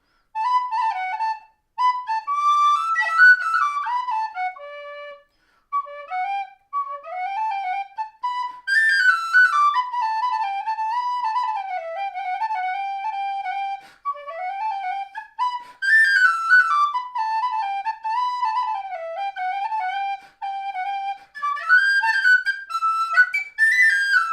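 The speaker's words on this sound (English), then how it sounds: "So we got the sweet tone of the Burke whistle." A Burke tin whistle plays a sweet, fairly loud melody alone, phrases of bright sustained and ornamented notes separated by brief pauses.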